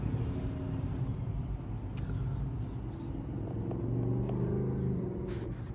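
A Ford Mustang engine idles steadily at close range, a continuous low rumble with a slight swell partway through and no talk over it.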